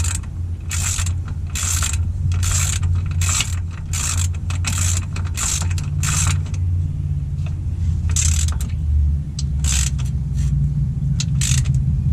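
A hand ratchet clicks in quick repeated bursts while loosening tight torque strut mount bolts on a 2004-2009 Kia Spectra, with short pauses between strokes over a low background hum.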